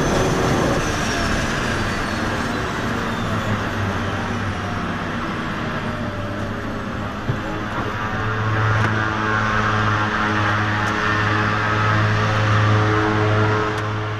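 An aircraft coming in at a busy airfield in a flight simulator, a loud, continuous engine drone with steady tonal hum and a slowly shifting whine, holding level throughout with no talk.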